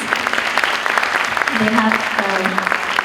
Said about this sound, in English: a big round of applause for our wonderful musicians